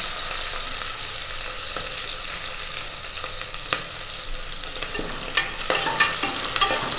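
Onions and curry leaves sautéing in a pan give a constant hiss and sizzle, with sharper stirring scrapes toward the end.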